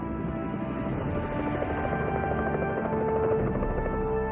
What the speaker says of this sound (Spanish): escuché el ruido del rotor del helicóptero